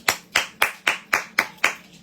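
Seven crisp hand claps at an even, steady pace, each sharp and close, with no voices around them.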